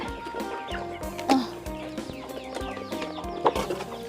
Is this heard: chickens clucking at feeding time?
yes